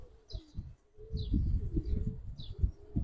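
Giribaz pigeons call close by in short soft coos and chirps, several brief calls over a few seconds, with some low handling rustle and thumps underneath.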